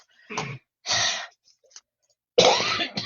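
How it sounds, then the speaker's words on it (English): A few forceful breathy huffs, separated by short silences, close and loud with nothing else in between. "So I'm going to do the Darth Vader huff."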